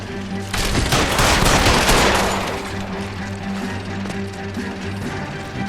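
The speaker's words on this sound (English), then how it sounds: "Gotta put shots into him once in a while." A loud, rapid volley of gunshots bursts out during a shootout in the 1940s crime game L.A. Noire, then fades into a steady low hum of background ambience.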